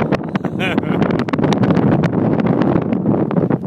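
Strong mountain wind at about 70 to 80 km/h buffets the microphone high on a trail at roughly 8500 feet, a loud, steady roar with gusty bursts throughout, voices faintly mixed in.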